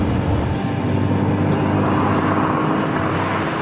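A U2 spy plane roars past overhead, a steady broad rushing engine noise that stays loud and dense throughout, with no voices.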